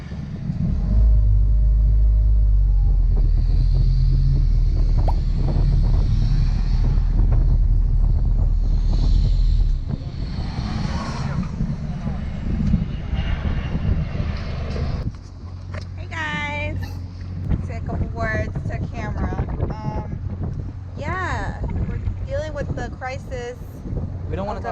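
A motor boat's engine drones in a deep, steady rumble on a leisurely cruise, loud and constant for the first ten seconds, then lower under wind buffeting the microphone while people talk over it.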